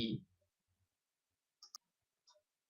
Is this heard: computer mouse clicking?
yes